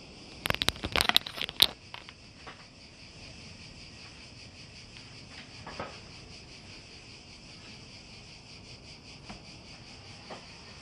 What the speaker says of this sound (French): on entend trop les cigales où je suis